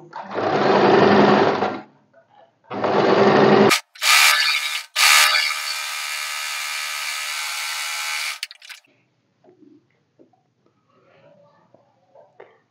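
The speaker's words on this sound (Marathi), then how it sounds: "पट्टीवर एकदम कडेने दाब शिलाई यायला पाहिजे" A sewing machine stitching the edge of a katori blouse, running in two short bursts and then a longer steady whirring run, close and loud, with quiet pauses between and faint movement after.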